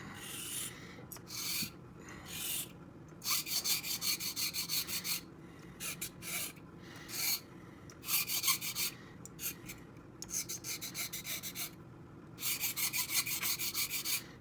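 A Puma 91 straight razor in poor condition, with chips in its edge, is honed on a 400 grit stone in repeated close, gritty rasping strokes separated by short pauses; no talking.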